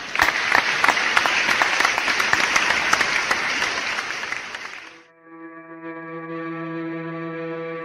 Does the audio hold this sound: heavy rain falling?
no